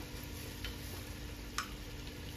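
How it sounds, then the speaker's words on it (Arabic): Onions fry in a pan, a steady close sizzle with a couple of faint scraping stirs. "هننزل على البصل بقى"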